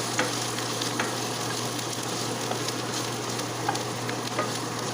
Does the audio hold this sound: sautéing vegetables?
yes